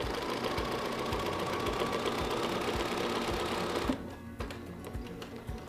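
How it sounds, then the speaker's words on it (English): A sewing machine runs in a steady, rapid stitching rhythm while quilting along the edge of a ruler, close and continuous, then it stops abruptly near the end. "just continue sewing, leaning against the edge of the ruler."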